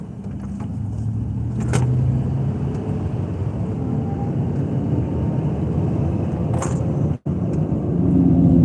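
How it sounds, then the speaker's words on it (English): Heavy road traffic on an Atlanta street at night, a continuous low rumble of car engines and tires with a few brighter passing swishes and one brief dropout, loud and steady. "Really shouldn't be this much traffic."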